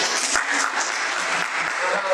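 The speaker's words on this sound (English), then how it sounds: "Another hand clap to you yourself that debated" A brief burst of applause from the audience at a university debate session honors the debaters, steady close clapping throughout with no pauses.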